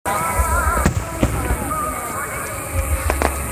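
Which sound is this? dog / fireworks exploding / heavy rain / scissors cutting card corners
fireworks exploding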